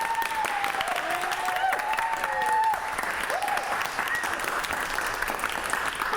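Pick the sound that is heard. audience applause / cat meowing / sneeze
audience applause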